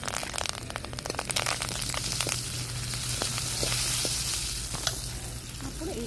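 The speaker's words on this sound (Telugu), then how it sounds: "కొన్ని తాలింపు గింజలు వేసుకుని అన్నీ కలిపేసి తాలింపు గింజలు ఇక మా చెట్ల కరివేపాకు తాలింపు." Seeds and homegrown curry leaves sizzle in hot oil for a village-style gongura chutney: a dense, close crackle with many sharp pops over a constant frying hiss.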